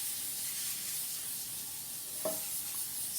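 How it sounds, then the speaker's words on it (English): Pam cooking spray hisses steadily from the can onto tinfoil lining a pan, a continuous close, airy spray running almost the whole way with one brief knock partway through. "Got some Pam here, cooking spray."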